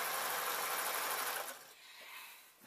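A sewing machine stitches rows close together on a mop hat, a bright steady whir for about a second and a half that then slows and trails off.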